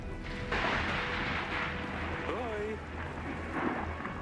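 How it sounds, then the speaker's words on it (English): Rain falls steadily in the medieval strategy game Yes, Your Grace, a dense hiss with low rumbling thunder beneath and brief tonal game sounds over it. "Rain."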